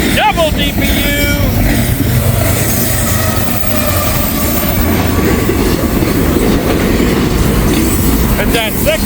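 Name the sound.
freight train passing with DPU locomotives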